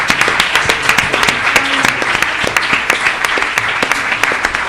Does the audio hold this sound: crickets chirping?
no